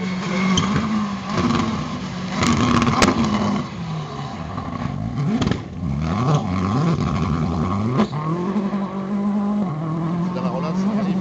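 A rally car on a gravel stage of the Vaucluse rally, its engine revving and accelerating past, with the pitch sweeping up and down between gear changes as voices talk nearby.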